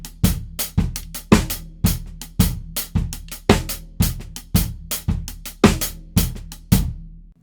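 A basic six-eight funk drum groove on a kit, with steady repeated hits and sharp snare backbeats in an even, looping pattern, played close and alone with no talking.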